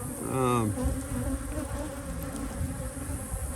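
Honey bees hum around open hives in an apiary, a dense steady drone close by, with a brief low voice-like tone near the start and continuous buzzing throughout.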